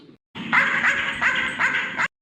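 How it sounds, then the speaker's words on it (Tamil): A dog barks in a quick run of harsh, repeated calls close by, over a noisy outdoor background with no talk during the barking. "ஐயோ சந்தியா என்ன இந்த நாய்க்கு அடிச்சு விடும் போல இருக்க இந்த கொலை குலைக்குது"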